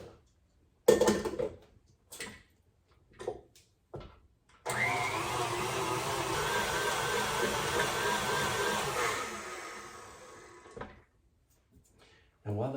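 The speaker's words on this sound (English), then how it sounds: "I'm just gonna put it back under the mixer and let it mix a little more" An electric stand mixer whirs steadily for several seconds as it beats chocolate chip cookie dough, then winds down, with short clatters and kitchen handling noises before and after.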